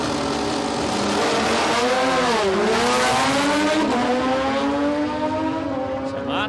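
A blue Kawasaki drag bike makes a pass at Palmyra Dragway, its engine screaming loudly as it climbs through the revs and dips at a shift, then winding up again in a long, continuous howl.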